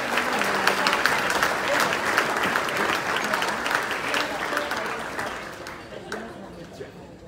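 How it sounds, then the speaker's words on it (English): A banquet crowd at an agricultural appreciation dinner gives a big, dense round of applause that holds strong and then gradually thins out, with some voices mixed in. "Give her a big round of applause"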